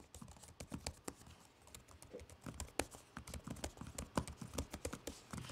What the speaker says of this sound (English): So testing the keyboard out.